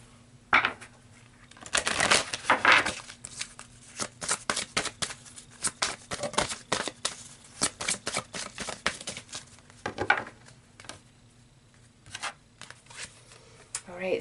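Tarot cards being shuffled by hand, a long run of rapid crisp riffling and slapping bursts, close up, with a voice talking over parts of it.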